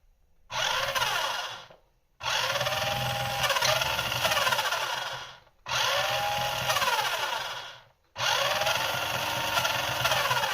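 Electric motor of a 1/12-scale MZ Products YY2035 RC car on 7.4 V, a Lotus 7 / Caterham 7 replica, whines up during a throttle test in four long high-pitched bursts separated by short silences, loud and close.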